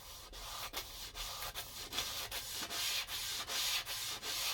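An 80-grit disc on a backing pad sands 316L stainless steel in rhythmic strokes, a steady abrasive rasp broken by regular short pauses about every third of a second.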